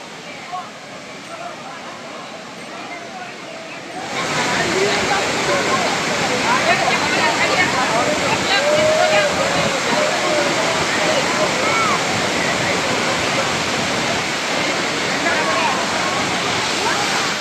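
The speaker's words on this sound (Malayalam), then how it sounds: "ഇത്രയും മനോഹരമായിട്ടാണ് വട്ടായി വാട്ടർഫോൾസ് ഉള്ളത് എന്നുള്ളത് ഇപ്പോഴാണ് മനസ്സിലായത്." Vattayi Waterfalls in Thrissur, Kerala, gives a constant rushing roar of falling water that swells noticeably louder after a few seconds and then holds steady, close to the listener.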